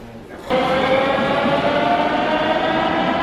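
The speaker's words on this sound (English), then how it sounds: "Metro station in Sofia" A metro train at a station in Sofia, Bulgaria, gives a loud, steady mechanical hum with a sustained tonal whine that starts abruptly and holds evenly.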